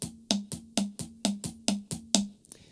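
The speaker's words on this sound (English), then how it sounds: "Start with your weak hand and follow with your weak foot," Drum strokes alternating the weak hand and weak foot, seven evenly spaced hits about half a second apart, each a sharp bright crack with a low drum tone ringing underneath, close and alone.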